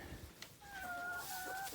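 Chickens cluck softly in a chicken coop on a farm, a couple of drawn-out, faint calls over a quiet, slightly noisy background.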